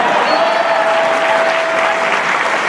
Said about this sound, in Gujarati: મને તાળીઓથી વધાવો.